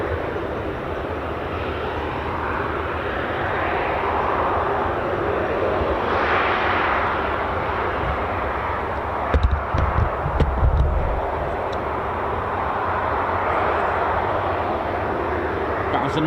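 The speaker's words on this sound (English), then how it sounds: "Big iron that is, still going, the legacy of the legendary KC-135." Boeing KC-135 tanker jet engines at a US Air Force operation roar steadily for a long stretch, a broad rumbling drone with gusty swells, while someone talks over it throughout.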